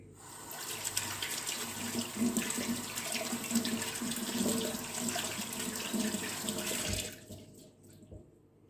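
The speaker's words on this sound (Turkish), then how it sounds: "Hemen ellerimi temizleyelim." A kitchen tap runs steadily while hands are washed under it during chocolate mini cake baking, a close, continuous splashing stream that stops abruptly near the end, with no talk.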